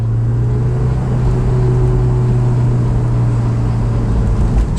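A Honda S2000 on the road, a steady, loud engine hum with a constant low drone and road and wind noise from inside the cabin, no change in pitch throughout.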